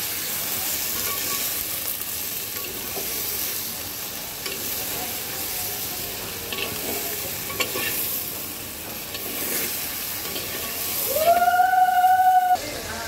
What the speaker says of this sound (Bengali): একটু হালকা হাতে নেড়ে দেব, কারণ ফুলকপিগুলো কিন্তু আমার আগে থেকে একটু হালকা সেদ্ধ করা ছিল।